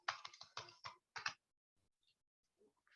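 PHP code being typed on a computer keyboard: a quick run of close keystrokes, then a few sparse, faint clicks.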